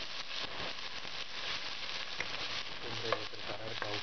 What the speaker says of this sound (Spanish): Pues ya tengo la cebolla y los ajos para hacer este sofrito.